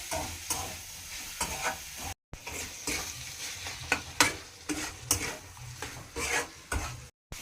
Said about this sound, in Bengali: এই যে চিকেনটা এখন হচ্ছে, দেখা চিকেনটা দেখে নাও বন্ধুরা